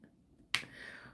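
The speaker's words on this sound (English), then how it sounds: "There's nothing like that popping sound from your little glue dot." A diamond art drill pulled off a glue dot gives one sharp, crisp pop that rings briefly in a quiet room, close and alone.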